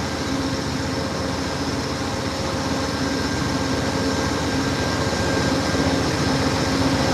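GE FDL diesel locomotive engines on an Amtrak California Zephyr at a station stop in Ottumwa, Iowa, drone in a steady, heavy idle with a constant low hum and rumble, unbroken throughout and without any voices.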